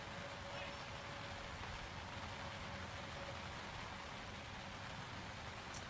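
Steady rain drums on a tent at an outdoor baseball championship game, a continuous even hiss that holds at one level throughout with no clear voices above it.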